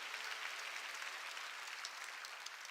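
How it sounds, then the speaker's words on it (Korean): A church congregation applauds, a wash of many hands clapping at once, steady and moderately distant for a few seconds, with no voices over it. "박수로 하나님께 영광 돌려야 할 거 아니에요."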